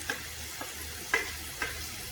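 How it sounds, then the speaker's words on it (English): Onions frying with jeeravan spice mix are stirred in a pan, giving a steady soft sizzle with a few brief scraping strokes spaced about half a second apart. "I cooked the onions with the spice mix. Once fairly done and evenly coated, a little stir"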